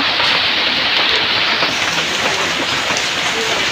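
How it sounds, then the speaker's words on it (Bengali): Heavy rain pours down in a dense, loud, unbroken hiss of drops striking surfaces, close and steady throughout, with no voices. "প্রচন্ড পরিমাণে বৃষ্টি হলো।"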